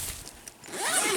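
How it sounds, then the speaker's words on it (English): A zipper is pulled open along the door of a Darche Dirty Dee canvas swag, giving a close, soft rasping run that rises and brightens toward the end, with no voices. "If I unzip the door, again, the door has 2 zips."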